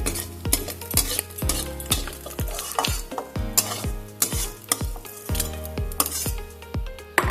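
Small fried fish are lifted out of a pan of hot oil for a traditional Bengali fish curry, with a steady run of sharp utensil scrapes and clinks over a soft sizzle, close and fairly loud.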